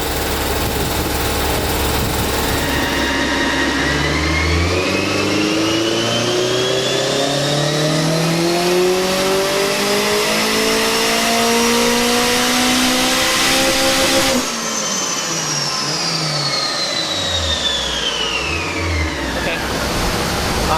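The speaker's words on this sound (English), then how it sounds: "So that was the first all-out pull where I went full throttle from an early RPM, and we got all the RPM range." A turbocharged Honda S2000 engine runs at full throttle on a dyno, a loud sustained roar climbing steadily in pitch through the rev range, then dropping off and briefly blipping before rising again.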